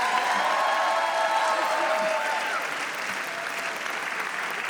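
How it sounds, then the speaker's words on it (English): Audience applause at the Rahway's Own/Rising Stars ceremony, honoring the town's young achievers: dense, sustained clapping from a large crowd that holds steady for several seconds and eases slightly toward the end. "Can we get another round of applause, please, for Rahway's Rising Stars?"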